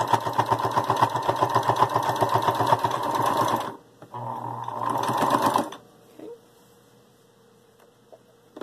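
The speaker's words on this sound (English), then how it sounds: "we're going to go to the machine and we're going to stitch on the lines we just made to make our second set of darts" A sewing machine stitches darts on a fabric bowl cozy, running steadily in two loud, close bursts, the second shorter after a brief pause, then stopping into near silence.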